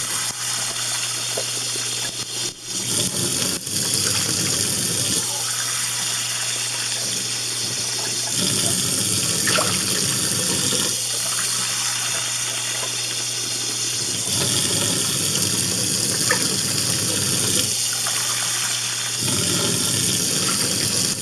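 Hot water running steadily from a tap into a large mixing bowl for Sioux frybread dough, a continuous gushing wash that stops and restarts several times, close and fairly loud with no talking.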